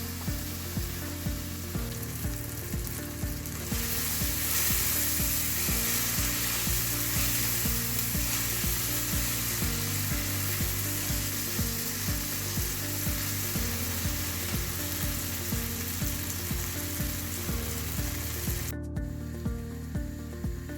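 Gravy frying in a pan in a Kerala home kitchen, with a steady loud sizzle and stirring scrapes running throughout under a constant low hum, no talk.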